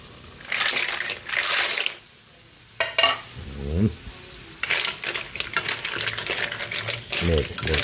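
Mussels (tahong) being stirred in a cooking pot, with repeated scraping, clattering stirring bursts and a steady sizzle underneath, close and fairly loud.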